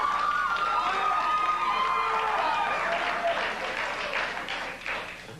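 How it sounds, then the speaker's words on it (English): A studio audience breaks into sustained applause mixed with some whoops and cheers, loud at first and gradually thinning out toward the end. "What are you applauding?"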